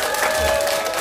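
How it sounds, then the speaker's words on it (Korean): Brief burst of audience applause at a live performance show, dense clapping under a steady tonal sound. "잘했어, 박수 한번 주시죠."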